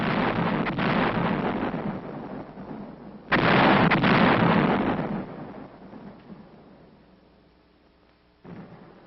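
Artillery barrage pounding enemy hill positions in rugged terrain: heavy rumbling blasts roll on continuously, with a loud fresh impact surge midway that slowly fades and another burst at the end, distant and booming with no voices.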